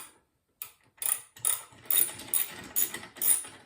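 A ratchet wrench tightens bolts on an Xterra treadmill motor, giving close, loud bursts of rapid clicking in about six regular strokes after a brief quiet start.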